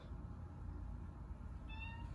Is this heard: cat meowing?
yes